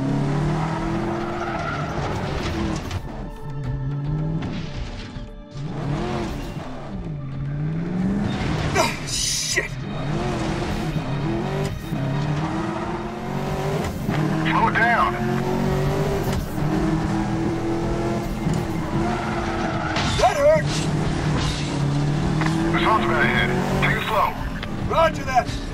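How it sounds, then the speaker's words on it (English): A car races through a mission in the Medal of Honor: Warfighter video game, with its engine revving and rising and falling, repeated tire squeals and skids, and voices talking over the driving throughout. "Nice driving, Preacher."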